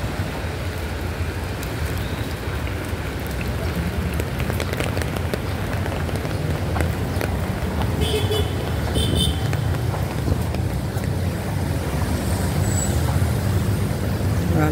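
Morning rush-hour traffic streams past in Ortigas Center as a continuous wash of road noise and rolling tires, with cars and buses passing close by and a faint hiss like a wet surface, and no talk.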